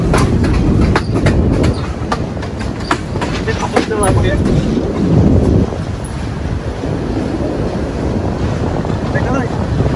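A train rolls close past on a rail route from Faridpur to Kalukhali in Bangladesh, with loud, steady rumble and wind buffeting, sharp clicks and clacks of wheels over rail joints in the first seconds, and no talk.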